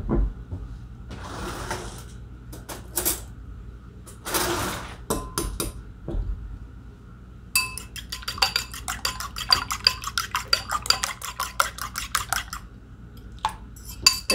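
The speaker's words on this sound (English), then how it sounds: "so I'm gonna take a fork and beat those." Three eggs whisked with a fork in a bowl, giving brisk, rapid metallic clinks and tapping in a dense rhythmic burst, preceded by a few scattered clatters, close and fairly loud with no talk.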